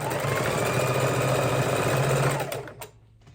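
A sewing machine stitches quilt block pieces for a Mexican-themed pinwheel quilt, running in a steady fast whir for about two and a half seconds before slowing and stopping, close and alone.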